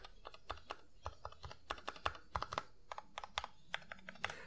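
Mechanical keyboard with stabilizers being tested during assembly, keys pressed one at a time in an irregular rhythm, each stroke giving a crisp, close clack over a quiet background with no talking.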